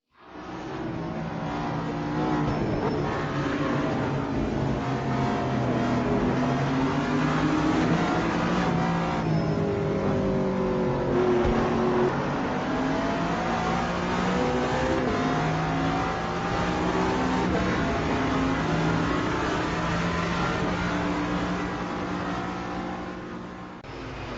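Race car engines rev and shift continuously in a PC racing game, with modern GTs on track, a sustained loud engine drone rising and falling through gears for over twenty seconds without talk.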